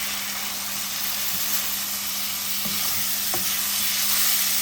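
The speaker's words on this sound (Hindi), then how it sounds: "अब हम इसके अंदर डालने वाले हैं टमाटर" Tomatoes drop into spice masala that has been fried until the oil separates, setting off a steady sizzle in the pan with a few sharp stirring clinks and a faint low hum underneath.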